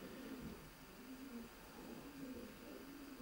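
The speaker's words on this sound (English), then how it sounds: "There's 30 stock pigeons." Racing pigeons coo in a stock loft of about 30 birds, a steady low murmur of overlapping coos swelling and fading under constant background noise, with no speech.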